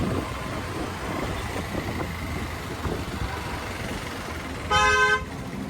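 Busy road traffic rumbles steadily nearby, then a car horn gives one loud, short honk near the end.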